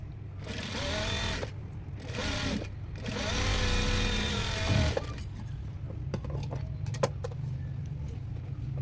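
A sewing machine stitches a princess cut blouse in rapid bursts, its fast mechanical whirring starting and stopping several times, loud and close, followed by quieter clicks and fabric handling.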